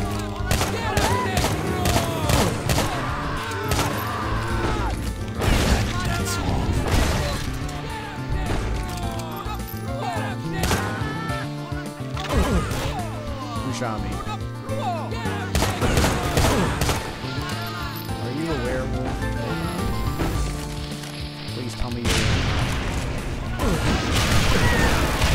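Gunshots fire in Doom 2 in rapid, repeated bursts for a long stretch, with loud blasts, crashes and heavy impacts layered over game music.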